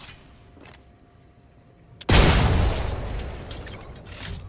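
A frag grenade detonating in Apex Legends: a few faint clicks, then one loud, close blast with a long rumbling tail that fades slowly, no talk over it.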